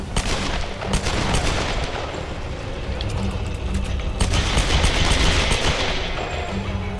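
Rapid, loud gunfire in the video game Tomb Raider, overlapping shots and automatic bursts filling the whole stretch with constant rumbling action-game noise.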